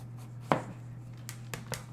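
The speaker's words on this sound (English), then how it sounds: "sometimes this is very zen, just chopping up some vegetables" A single firm chop of a knife through vegetables on a board, prepared for dehydrating, followed by a couple of faint lighter taps, near and quiet over a low electrical hum.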